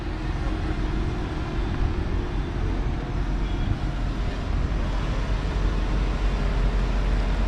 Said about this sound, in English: the car is going to go through some slightly deep, shallow water